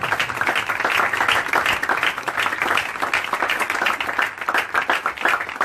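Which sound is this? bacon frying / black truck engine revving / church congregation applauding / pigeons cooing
church congregation applauding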